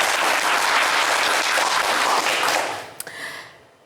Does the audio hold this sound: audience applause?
yes